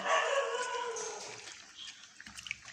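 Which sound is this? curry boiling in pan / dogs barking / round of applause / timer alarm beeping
dogs barking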